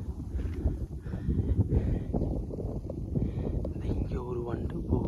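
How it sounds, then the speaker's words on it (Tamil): Wind gusting over an open hilltop on a trek at Rangamalai in Dindigul district, a steady rough rush buffeting the microphone throughout, with a few faint sounds on top. "நல்லா காற்று அடிக்குது"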